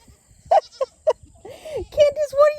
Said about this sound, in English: I have a goat between my legs.